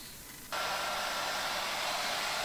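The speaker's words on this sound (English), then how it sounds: "Again, dry it off with the air dryer." A hair dryer switches on and blows steadily, drying filler and paint during the restoration of a butter churn; a loud, even whooshing rush of air that holds constant after starting.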